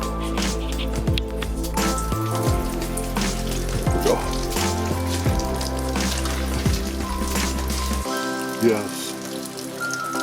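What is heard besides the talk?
rain falling outside a greenhouse shed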